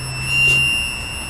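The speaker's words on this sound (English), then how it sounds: "Turn on the switch. And wait for the buzzer to stop." A warning buzzer on the dashboard of a 40 ft bus after the ignition switch is turned on, a steady high electronic tone that holds for about half a second, over faint engine hum.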